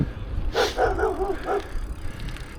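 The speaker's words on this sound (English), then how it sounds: "Other than that dog barking over there." A dog barks several times in quick succession off in the distance beside a quiet graveyard during an early Sunday bike ride, the short yaps standing out over low outdoor rumble.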